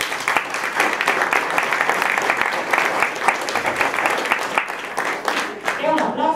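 Steady, dense applause from an audience at an art exhibition presentation honouring a painter, loud and continuous throughout with faint crowd murmur underneath.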